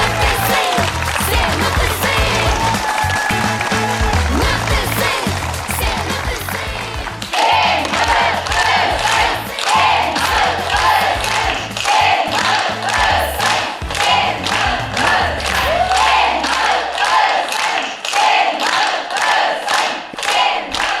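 A large audience at a stage event claps and cheers steadily as guests are called up, dense continuous applause with shouts throughout, loud and close.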